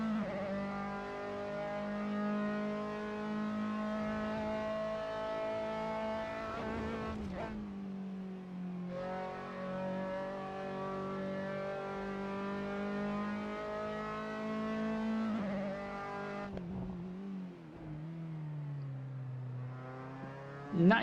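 RSR Formula 3 race car engine in Assetto Corsa at Silverstone, a loud steady high-pitched drone climbing through the gears with brief blips and drops on downshifts, close and continuous.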